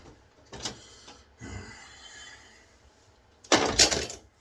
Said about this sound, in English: Dropped my alum block out on my medicine cabinet.